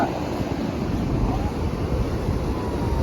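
Sea waves wash onto a beach on the coast near Goa in a steady broadband roar, mixed with wind buffeting the microphone and no clear voices.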